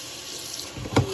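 Water runs from a kitchen tap in a steady, fairly quiet hiss while a knife is washed with soap. Near the end comes a brief splash or knock.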